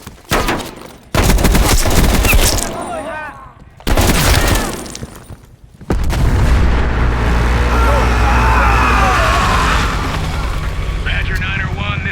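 Heavy gunfire rattles through a Call of Duty Black Ops Cold War battle: loud bursts and booms at first, then a dense, sustained volley of shots and blasts for the rest of the clip, with brief voices in between.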